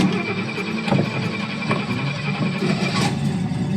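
An engine cranks and catches, then runs at a steady idle close by, with a few brief clicks and squeaks over the hum.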